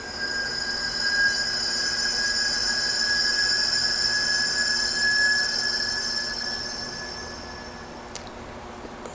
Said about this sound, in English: Now I'm going to slowly open this valve and you should be able to hear it.